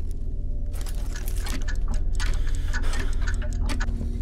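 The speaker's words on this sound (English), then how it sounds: "I hear mad clocks." Several clocks tick steadily in the horror video game MADiSON, a dense, overlapping pattern of sharp ticks over a low hum, with no talk.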